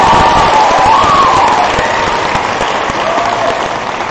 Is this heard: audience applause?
yes